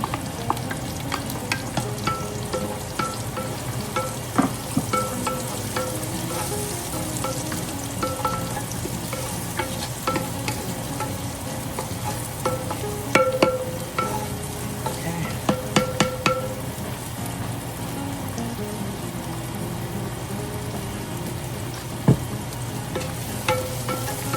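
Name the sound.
garlic frying in a clay pot (palayok)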